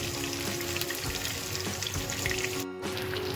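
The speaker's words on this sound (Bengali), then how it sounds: "মাছগুলো প্রায় ভাজা হয়েই গেছে" Katla fish frying in a pan, a steady hissing sizzle of hot oil running continuously and evenly, close and moderately loud, with no talking.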